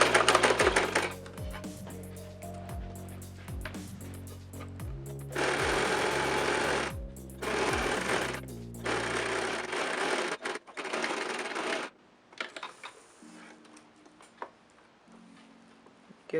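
A sewing machine stitches boning down onto a petticoat panel in several loud bursts of rapid mechanical clatter, separated by short pauses, then falls quieter with faint handling sounds.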